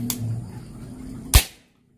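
A single sharp, dry crack of a PCP air rifle firing close by at about 875 fps, following a faint click, then quiet.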